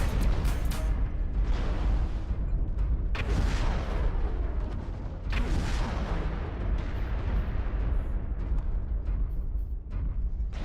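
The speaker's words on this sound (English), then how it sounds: "here I'm firing just within max range of the micro lasers" Repeated micro laser fire in MechWarrior Online, a loud, dense run of sharp energy bursts with rumbling game booms layered throughout, continuous and close with no talk.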